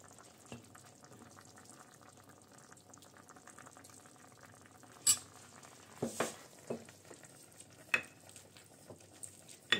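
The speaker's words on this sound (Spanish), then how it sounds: "Lleva aproximadamente unos 20 minutos hirviendo nuestro conejo." Rabbit in mustard sauce simmering in a pan, a soft steady bubbling with occasional louder clinks and stirring scrapes standing out from the low background.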